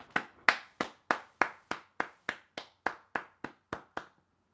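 One person claps alone in a slow, steady rhythm, about fourteen crisp, close claps that gradually soften before stopping.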